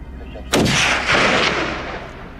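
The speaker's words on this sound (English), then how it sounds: "The gunshot echoed through the mountains." A single sharp rifle shot from a wild boar hunt cracks loudly in the mountains, then rolls into a long echoing reverberation that fades slowly across open terrain.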